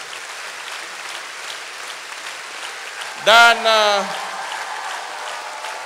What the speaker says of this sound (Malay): Kita tepukan kepada pengetua-pengetua college